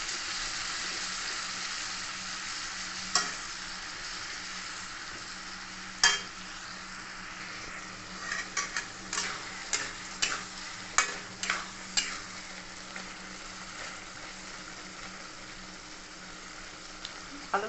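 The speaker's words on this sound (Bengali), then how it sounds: "এরপর এটা আমি ভালো করে নেড়ে চেড়ে ভেজে নেব।" Potatoes and onions fry in katla fish oil with a steady soft sizzle, while a spatula stirs and scrapes the pan in scattered clinks, most of them in the second half.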